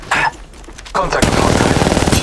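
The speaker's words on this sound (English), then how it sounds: "They're shooting at me!" Enemy gunfire in Apex Legends Mobile erupts as a rapid automatic burst, loud and close. It follows a brief quiet moment with a short voice line and a few isolated sounds, then rattles on steadily to the end.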